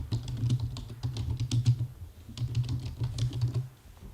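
Steady computer-keyboard typing, with close, rapid keystrokes running in two bursts split by a short pause, heard alone with no talking.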